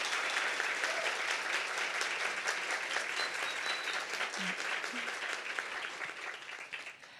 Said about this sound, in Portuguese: uma salva de palmas para a Bettina